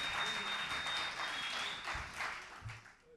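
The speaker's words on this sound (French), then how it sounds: "Sous vos applaudissements." Steady, fairly distant applause from a studio audience at the final of a French-language television presenter and gospel singing contest, continuous clapping throughout that tapers slightly at the end.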